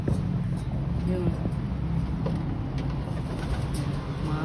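Pigeons coo in soft, repeated low calls close by, over a steady murmur of traffic with voices talking in the background.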